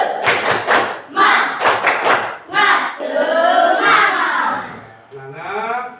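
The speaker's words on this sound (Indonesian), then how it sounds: "kita tepuk semangat dulu ya" Schoolchildren performing the 'tepuk semangat' clapping chant, groups of rhythmic hand claps and thumps mixed with young voices chanting in unison, fairly close and loud.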